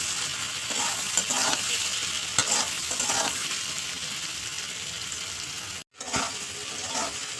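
Potatoes fry in hot oil with salt, turmeric and chili powder, giving a steady close sizzle with scraping stirs and a short dropout of near silence partway through.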